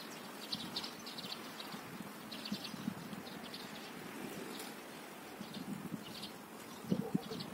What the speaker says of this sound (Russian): Купаются воробьи, это значит скоро весна.